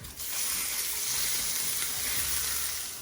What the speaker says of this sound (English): Now that my garlic is cooked and flavored the oil, the olive oil that we put in it, we're gonna add the steak